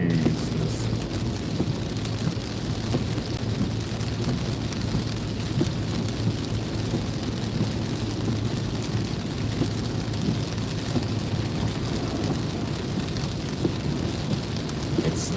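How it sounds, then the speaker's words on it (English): Heavy rain during a drive on Highway 95 in Virginia, a steady dense wash of drops and road spray over a low constant rumble, loud and unbroken throughout with no talk. "We are getting rain."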